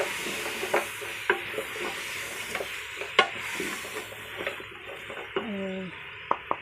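Onion and ginger-garlic paste fry in a pot with a soft sizzle. A spoon scrapes and stirs in intermittent clicks and taps, close and fairly quiet.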